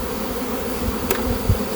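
Honeybees buzzing in a hive just after being shaken down below the queen excluder, a steady close drone of many bees filling the clip, with a few faint knocks and no talk.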